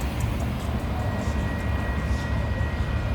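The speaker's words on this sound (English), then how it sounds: "As you can actually hear, that's a train up there." A metro train rumbling past on an elevated track overhead, a steady low roar holding for the full stretch with a faint high whine above it, no talk.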